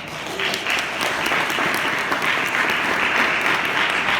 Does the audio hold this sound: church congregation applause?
yes